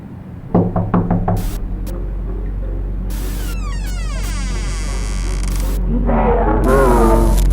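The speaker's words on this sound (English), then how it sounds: "Knock on the door." Knocking on a door in the indie horror video game Amanda The Adventurer: a quick series of sharp knocks near the start, followed by electronic game tones and a low droning hum.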